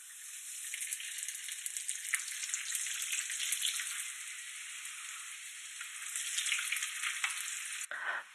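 Food fries in a pan with a steady, bright crackling sizzle that holds evenly for several seconds before cutting off abruptly near the end, close and without talk.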